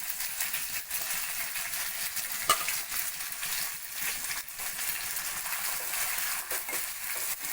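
Curry leaves and sliced onion sizzle in hot oil in a pan for sambar rice, a steady bright frying hiss with occasional pops and stirring clatter, close and continuous, with no talking.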